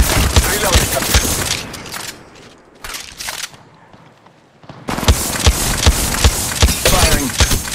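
Video-game shooter gunfire crackles in dense bursts of sharp shots, dropping to a brief, quieter lull before heavy firing resumes, loud and close throughout.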